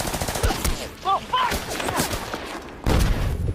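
Gunfire and explosive blasts from a war battle scene with Taliban fighters, a grenade thrown at American snipers; loud bursts and a heavy boom near the end, with voices shouting in between.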